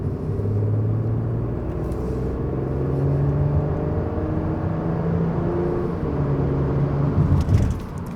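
A Porsche Cayenne Coupe engine rumbles steadily at low speed with its sport exhaust system switched on, a deep exhaust note that swells briefly near the end.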